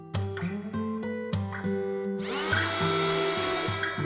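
A power drill drives screws into a Beetech wooden hive kit, first in several short stop-start whirs, then in one sustained, higher-pitched run of the motor, close and fairly loud.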